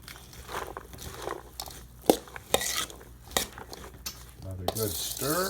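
Salsa ingredients being stirred in a bowl, with scattered clinks and wet scraping strokes of varying loudness, ending in a louder wet churning swirl close to the microphone.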